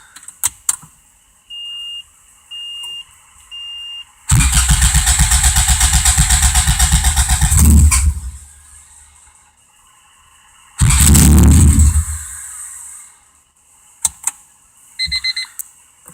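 Honda CRX with a swapped B20 engine cranking and briefly catching in two loud bursts, each sputtering for a few seconds before dying, with short beeps from the car between attempts.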